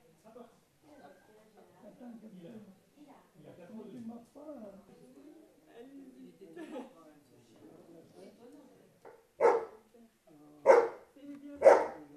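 People talk in the background, then three loud, sharp dog barks ring out near the end, spaced about a second apart.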